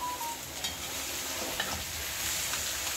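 Lamb being stirred in a hot pan while it fries, a steady sizzle running throughout with a few soft scraping and clinking stirs, close and fairly quiet, with no voices.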